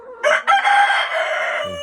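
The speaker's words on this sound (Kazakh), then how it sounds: "Осындай клеткіде тұр тауықтар қазір." Adler chickens kept in a cage give a loud, close rooster-like crowing call lasting over a second, with a brief clucking onset and a low bird sound near the end, no talk.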